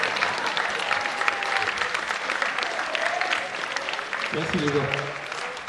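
A conference audience at the Festival Big Bang keeps up sustained, even applause throughout, while someone speaks briefly over the clapping.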